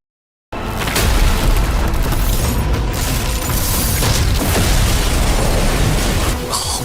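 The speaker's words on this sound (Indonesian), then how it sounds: "Ledakan ini pun telah usai" A loud, dense explosion roars up abruptly after a brief silence in an animated Chinese fantasy battle scene, a sustained rumbling blast that rolls on at full strength without fading.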